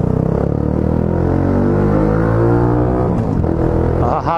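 A Honda Biz 125 motorcycle fitted with an aluminium exhaust revs hard and loud up close, a sustained throaty roar that rises and dips over a few seconds, heard alone.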